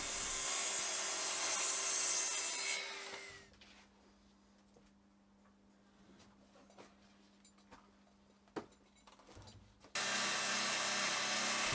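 A saw trims the top of a cabinet made from an old TV unit in a small workshop, giving loud, dense rasping strokes at the start and end with a quieter stretch of light knocks and rubbing between.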